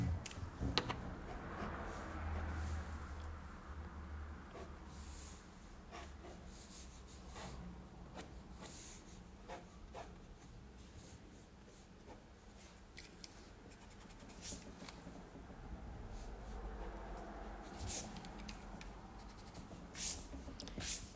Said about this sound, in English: Just erase the extra lines.